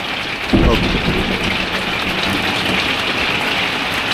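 Steady heavy rain pours down loudly on a campsite, with a low rumble of thunder near the start.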